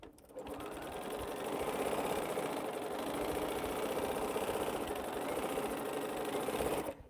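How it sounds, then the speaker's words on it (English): A sewing machine stitching African Ankara fabric scraps runs steadily at an even, close buzzing hum for about seven seconds, then stops abruptly. "So I'm going to go ahead and cut this thread because we're done sewing."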